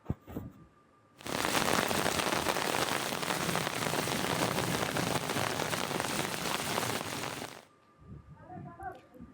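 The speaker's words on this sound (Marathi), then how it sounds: "किती जोरदार पाऊस सुरू होता याची भीषणता दाखवणारं एक दृश्य आहे." Heavy rain pours down in a dense, loud, steady roar that starts abruptly and stops just as suddenly after about six seconds, with quieter sounds before and after.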